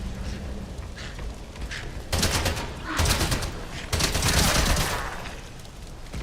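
An SMG in the video game Atomfall fires two long rapid bursts, a loud crackling rattle with a short pause between them, after a quieter stretch of background noise.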